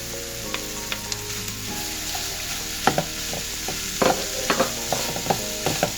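Minced beef sizzles in a pan over softened onions, with a steady frying hiss and scattered sharp scrapes and taps of a utensil stirring and breaking up the meat, close and moderately loud with no talk.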